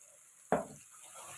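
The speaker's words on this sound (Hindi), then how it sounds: "थोड़ा सा पानी और डालूंगी" A splash of water hits a hot pan of frying spice masala for an egg and pea curry. It makes one sudden loud hiss that fades into a quieter sizzle and bubbling.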